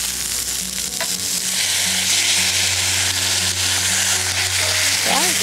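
Blended tomato sizzles loudly as it hits pre-roasted onions in a hot kadhai, a dense, steady frying hiss close by with faint stirring and clinks, no talking.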